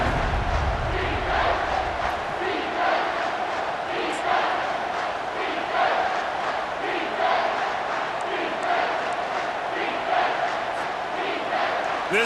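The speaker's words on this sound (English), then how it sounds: "This crowd knows they have to bring it in big moments" A stadium crowd at a college football game in EA Sports College Football 25 roars in a continuous, dense wall of cheering and chanting that swells and pulses steadily, loud and sustained.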